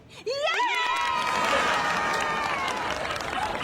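Crowd bursts into applause and cheering, loud and sustained, with excited voices shouting over the clapping.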